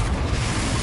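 Confringo blasting spell in Hogwarts Legacy erupting as a steady, rumbling low-end blast that fills the whole short moment, with no gaps.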